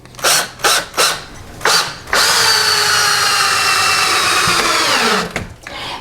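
A power drill drives a bar-soap-coated screw into a 2x4, opening with several short bursts before a loud, steady whir of about three seconds that slows and winds down near the end, with no voices.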